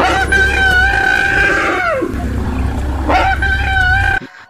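An elephant under attack by a lion lets out a loud, sustained, shrill scream with wavering pitch that rises again near the end before cutting off abruptly.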